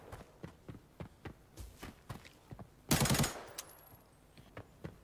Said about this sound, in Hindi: ये गन जो है सिंगल पे क्यों चल रही है